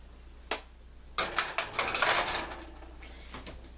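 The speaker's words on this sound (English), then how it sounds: "now I'm going to stick the fries in the oven" A tray of fries being slid into an oven, with a clack, then a cluster of metallic rattles and scraping clatter from the tray and rack, fading to quieter bumps, against a low steady hum.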